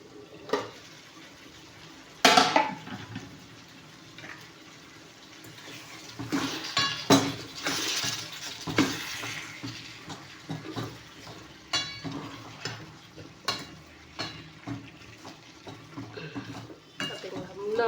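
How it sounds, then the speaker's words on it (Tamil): A few pots and vessels are scrubbed and washed outdoors, with scattered metallic clanks and knocks, watery scraping and occasional sharp hits over steady background noise, and some speech in between. "2-3 பாத்திரம் இருக்குது, அது வெளியே போய் தேய்ச்சிட்டு வந்துட்டு"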